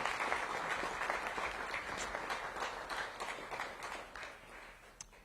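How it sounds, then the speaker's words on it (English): Audience applause at a city government event announcing a summer youth employment program, a steady wash of clapping that holds fairly even and tapers slightly toward the end. "Let's give them another round of applause."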